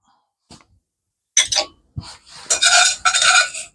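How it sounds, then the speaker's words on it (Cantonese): Oil and fried garlic tipped from a wok onto cooked spaghetti in a home kitchen: a few sharp clinks and scraping rattles of utensil against pan and plate in short bursts, with brief quiet gaps between them. "跟住將啲油同埋啲炸蒜鋪落去啲意粉度"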